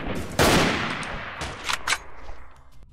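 Gunfire in the video game Freeman Guerrilla Warfare during a siege battle: a loud close burst of shots followed by a few sharper cracks that fade into a rumbling tail.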